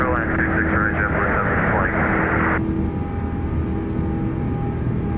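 A ToLiss A330-900 airliner in the X-Plane flight simulator rolls and climbs on takeoff, a steady engine roar with a high whine that drops midway, under radio-style talk.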